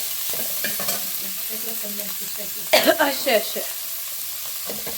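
Curry leaves frying in hot oil, a steady sizzle beneath a short spoken word, with a brief burst of louder crackling and spattering midway before settling back to a soft hiss.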